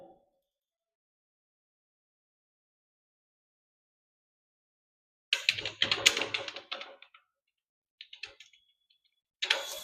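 Computer keyboard being typed on in short bursts of quick clicking keystrokes, separated by long silences, fairly faint and close.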